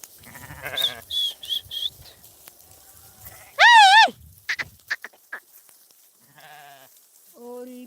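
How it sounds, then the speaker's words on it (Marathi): Sheep bleat several times, some faint and quavering, one loud and close in the middle, with scattered rustling between calls. "आता मेंढ्या चालल्या पाण्यावर बघू शकता"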